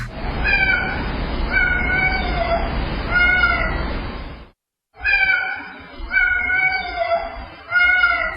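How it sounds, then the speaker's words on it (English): Noise-reduced recording of a cat meowing, several drawn-out plaintive meows in a steady run with a brief silent gap midway, close and clear. "we use noise reduction, noise canceling to hear the cat a little bit clearer"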